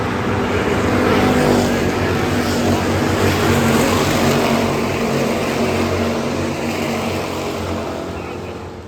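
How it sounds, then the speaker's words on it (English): Hobby stock race cars roar around the Adams County Speedway in a tight pack, a loud, sustained engine drone that swells and slowly fades as they pass. "Man, this gaggle of cars in the middle of the pack."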